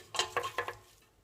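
Onions for an okra curry are stirred in a pan over low heat: a few quick, soft scraping strokes close by, then a faint trailing hiss.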